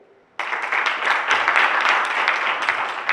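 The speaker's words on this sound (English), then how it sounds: "A round of applause for our speakers." A conference audience breaks into applause for its speakers after a brief quiet start, with steady, moderately loud clapping from many hands that carries on to the end.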